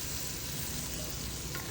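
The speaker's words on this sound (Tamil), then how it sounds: "எண்ணெயில் இந்த தக்காளி நல்லா குழையிற அளவுக்கு நீங்கள் வதக்கிட்டே இருங்க" Ground masala paste and tomatoes frying in oil for a village-style chicken egg curry, an even, continuous sizzle with no pauses or talk.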